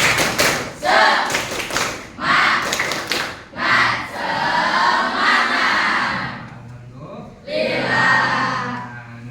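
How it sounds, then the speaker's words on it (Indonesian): Classroom children perform the tepuk semangat clapping routine, rhythmic bursts of sharp group claps separated by brief pauses, with shouted chant-like voices joining in between and over the claps. "Coba tepuk semangat ya. Tepuk semangat."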